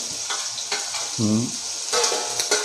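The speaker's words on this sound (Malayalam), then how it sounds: "ഇങ്ങനെ കജകജാന്ന് ഇളക്കിയിട്ട് നല്ല വാട്ടിയെടുക്കണ്ടോ" Onions fry in a hot pot for chicken biryani while being vigorously stirred, a loud close sizzle with scraping strokes, and a brief tonal squeak of metal in the middle.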